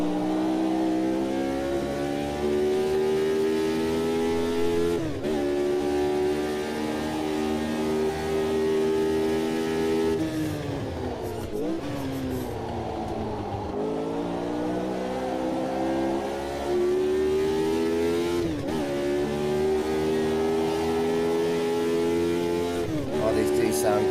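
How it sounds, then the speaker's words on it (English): Old race car engines in a sim racing game hold a steady, buzzing mid-pitched drone, with pitch sweeping down on braking and climbing again on acceleration across several shifts while someone talks over them. "These do sound great, these old cars."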